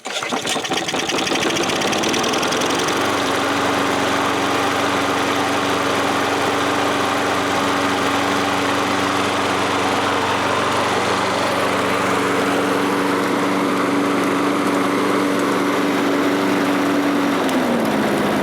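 An old MTD lawn mower engine idles steadily and loudly, a constant rough putter with a whiny hum that holds unchanged throughout, no voices.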